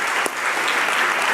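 A church congregation claps together in steady, enthusiastic applause, filling the space evenly for a moment.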